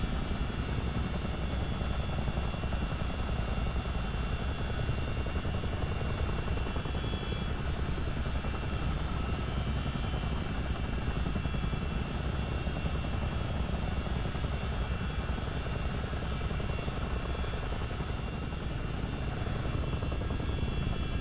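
CH47 Chinook helicopter flying in a flight simulator game, a loud, constant rotor and turbine roar with steady low thudding, heard alone without speech throughout.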